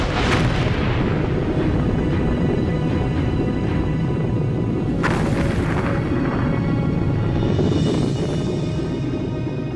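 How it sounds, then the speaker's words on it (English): Deep, continuous rumbling booms of undersea volcanic explosions off southern Iceland, a loud heavy roar with a few sharper bursts rising over it and no voices. "Just south of Iceland, fishermen report explosions."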